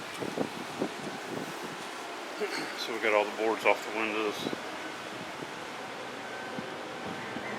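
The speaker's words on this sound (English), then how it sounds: "it's still windy right now because we got tropical storm winds" Steady tropical storm wind during Hurricane Milton roars and rustles in the background while a person speaks close by over the gusty noise.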